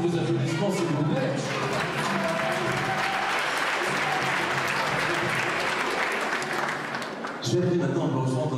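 Sustained, dense applause from a beauty pageant audience at the Miss Saône-et-Loire 2014 contest, loud and steady for about seven seconds before it abruptly thins out.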